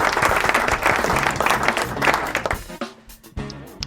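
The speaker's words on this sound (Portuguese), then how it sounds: "Palmas pra ela, plateia virtual." A burst of applause with clapping and crowd noise that fades out near the end, leaving a few scattered sounds.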